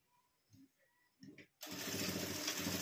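A sewing machine stitches a tucked, lined blouse with a steady, fast mechanical whir that kicks in abruptly after a few soft handling clicks and runs on close and fairly loud.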